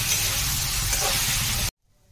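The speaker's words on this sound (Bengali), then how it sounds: "এবার আমি এই 10 মিনিট মতো নাড়াচাড়া করে নেব।" Sabudana pulao with cashews and raisins being stirred in a pan gives a steady, close sizzling hiss with soft scraping that cuts off abruptly, leaving near silence.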